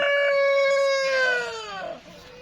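A single loud crow from a King Brahma rooster rings out close by on a farm, a long harmonic call that rises and then trails off, with no other sounds around it.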